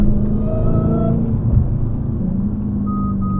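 Engine of a widebody Dodge Challenger Hellcat driving through New York City traffic, a steady close rumble with faint high whining tones rising and falling over the drone.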